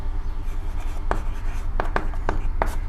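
Strokes of writing on a board during a math lesson: a handful of short, scratchy taps and scrapes spread unevenly over a few seconds against a steady low room hum.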